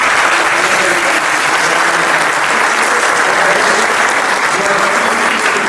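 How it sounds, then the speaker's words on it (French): A comedy-show audience applauds loudly and continuously, a thick wash of clapping at close range that holds at an even level throughout with no voice on top. "applaudissements."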